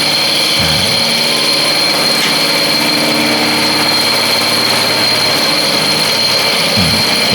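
A homemade metal lathe turns aluminium, its motor and cutting producing a loud, continuous high whine that holds steady throughout.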